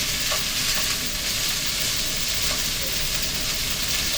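A beef patty fries in hot oil in a pan, giving a steady, close, loud sizzle and crackle that runs unbroken from start to finish, with no talking.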